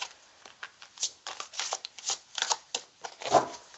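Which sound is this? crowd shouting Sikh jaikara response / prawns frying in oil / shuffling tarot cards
shuffling tarot cards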